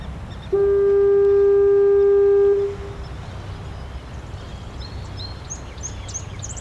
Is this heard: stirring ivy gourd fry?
no